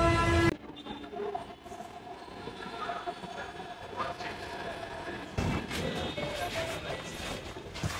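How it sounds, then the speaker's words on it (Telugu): Metro train pulls into a station amid a busy crowd near a Pushpa fan event in Hyderabad, with a broad rumble and hiss of wheels and brakes running the whole time and a brief signal tone at the start. "ట్రైన్ రావాలి, ఫాస్ట్గా యూసుఫ్ కూడా వెళ్ళిపోవాలి."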